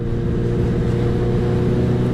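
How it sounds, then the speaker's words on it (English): A stretched and lowered Kawasaki ZX-14R motorcycle engine runs strong and steady, a loud, close, continuous low drone with no hesitation or rough idle. "engine sounds strong, there's not like a strange idle to it or anything"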